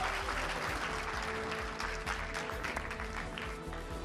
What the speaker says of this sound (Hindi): बजा लीजिए ताली अपने लिए